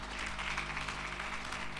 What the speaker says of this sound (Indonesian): Mari yang setuju saja berikan tepuk tangan.